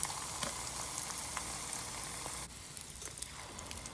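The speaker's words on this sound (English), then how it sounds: "Now I'm gonna start frying." Tortilla samosas sizzle and crackle in hot oil, a steady hissing with scattered pops, briefly quieting partway through before continuing.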